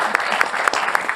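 An audience at an evening event applauds, dense close clapping from many hands, loud and steady throughout the short burst.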